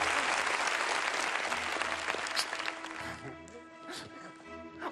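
A theatre audience at a mentalist stage show applauding a volunteer called to the stage, dense steady clapping that thins out toward the end while a voice speaks over it.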